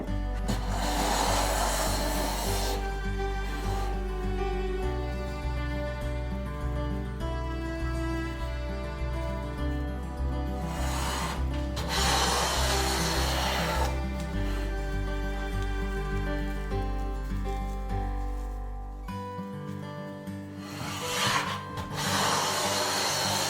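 A restored Nooitgedagt No 4 smoothing plane taking very thin shavings from figured hard maple: repeated long, breathy rasping strokes of several seconds each, steady and close, over a persistent low hum, with no talking.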